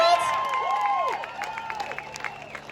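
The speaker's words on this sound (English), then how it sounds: "I want to hear some applause if you feel the same way" Crowd at a rally to reopen California applauding and cheering, a steady wash of clapping with rising and falling whistles over it, held throughout the clip.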